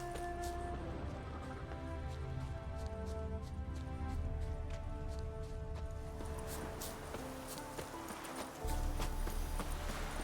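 Horse hooves galloping on a road in The Witcher 3, a steady rapid clip-clop running throughout over continuous game ambience and music, loud and close.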